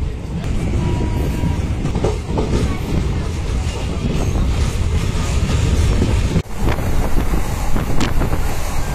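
The Bhubaneswar–Visakhapatnam Intercity SuperFast Express rolls out of Ichchapuram station, a loud, continuous rumble of wheels and carriages with heavy wind buffeting the microphone, broken by a brief dip and sharp knock.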